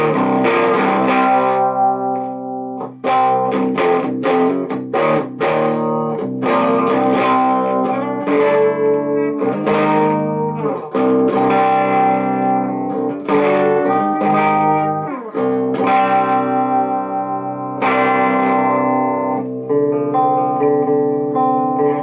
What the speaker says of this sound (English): We'll try slamming the tone all the way to the left, so let's see what kind of tones we get out of that.